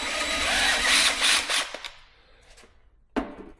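A drill press held in use while mounting a solar panel on a truck camper whirs loudly for about a second and a half, then winds down and goes quiet. A sharp knock follows near the end.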